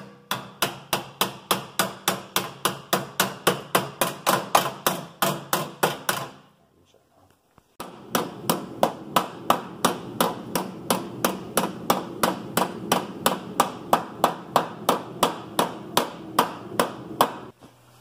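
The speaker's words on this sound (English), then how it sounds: "to get this pitch here, I actually use a blunt chisel" A blunt chisel is hammered against a sheet metal patch panel in a steady run of sharp metallic strikes, about two per second, pausing briefly midway before the rhythm resumes.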